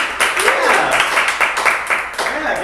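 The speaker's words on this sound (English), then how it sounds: "give that a round of applause" Audience clapping in a comedic news show studio, a brief burst of applause mixed with cheering voices, close and loud.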